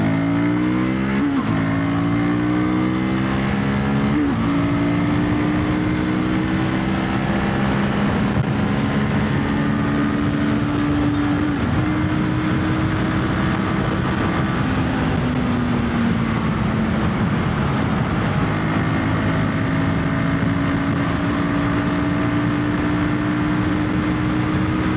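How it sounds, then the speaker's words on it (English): A Royal Enfield Guerrilla 450 motorcycle engine climbs through the gears toward 8,000 RPM, loud and close, with rising revs that drop briefly at each shift before pulling up again, continuous for the full stretch. "the motorcycle happily rose till the 8k RPM"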